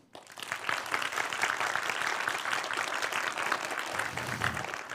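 A conference audience in a hall at a programming event breaks into loud, sustained applause that starts abruptly and stays dense and even throughout.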